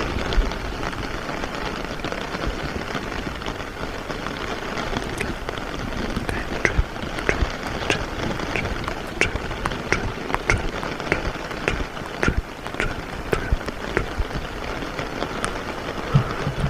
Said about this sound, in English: rain falling on the red leaves